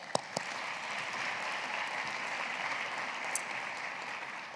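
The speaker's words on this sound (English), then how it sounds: "Round of applause for that." Sustained applause from an audience at a university awards ceremony, an even wash of many hands clapping at moderate distance, with a couple of sharper claps near the start and no talking.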